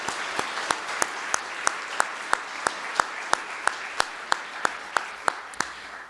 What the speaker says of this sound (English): So just a round of applause for all those who played a part in bringing this together.